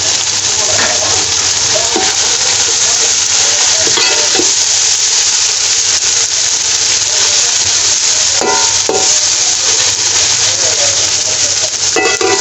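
Chopped capsicum and carrots stir-frying with toasted spices in a hot pan, a steady loud sizzle with scraping stir strokes throughout.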